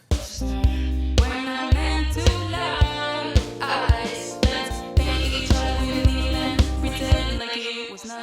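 A dense, layered music mix with a processed, echoing vocal and steady percussive hits; repeating delays and shifted-pitch textures smear across the steady beat.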